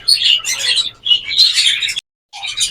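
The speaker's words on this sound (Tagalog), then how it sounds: "yung ibon, yung parakit" Rapid, high-pitched chirping from a parakeet, close and loud, in bursts with a brief silent gap before resuming.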